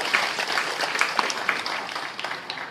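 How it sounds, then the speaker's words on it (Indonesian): Applause for the regent at an inauguration ceremony in Papua, a lively burst of crowd clapping with sharp individual claps standing out, tapering slightly toward the end. "Kamu tepuk tangan untuk Bupati."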